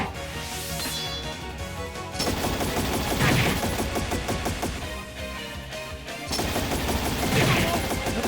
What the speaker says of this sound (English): A really loud gunfire attack.